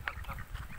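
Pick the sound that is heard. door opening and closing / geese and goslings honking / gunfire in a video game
geese and goslings honking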